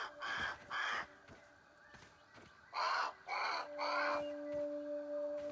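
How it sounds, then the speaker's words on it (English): A crow caws repeatedly in the video game Grounded, loud harsh calls in two bursts of two and three, over a steady low ambient hum from the game. "That's a crow."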